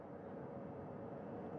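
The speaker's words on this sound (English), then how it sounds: "Helicopter 1 again hovering 40 feet over the front porch." Recovery helicopter hovering about 40 feet above the front porch of a recovery ship after the Artemis II splashdown: a steady, loud rotor-and-engine drone with a constant low rumble, continuous and unbroken throughout.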